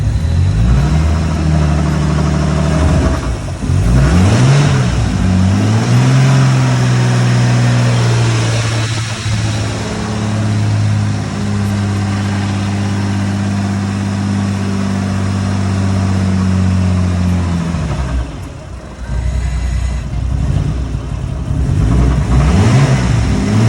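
A Nissan R33 Skyline engine cranks, catches and settles into a steady loud idle, revving briefly near the start and again toward the end.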